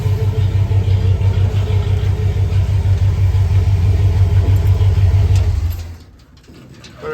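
A Chevy COE truck engine idles loud and close, with a steady low rumble for about six seconds before it cuts out abruptly, leaving quiet background.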